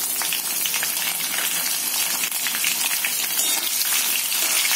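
Green chilies hiss in hot oil with cumin and curry leaves, a loud, dense, continuous sizzle like rushing rain that holds steady, close to the pan with no voices.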